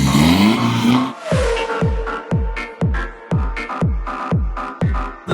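A Mazda MX-5 on a race track shifts hard into second gear, then fires a rapid series of sharp engine bursts or backfires at a steady, regular beat. A rising rev sweep comes before them, close and loud.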